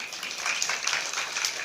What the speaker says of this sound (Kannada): ನಿಮ್ಮ ಸ್ವಲ್ಪ ಚಪ್ಪಾಳೆ ತಟ್ರಿ